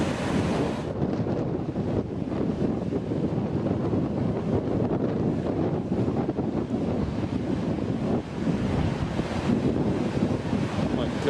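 Large ocean waves crash and wash on the shore with strong wind buffeting the microphone, a loud continuous roar of surf filling the whole clip.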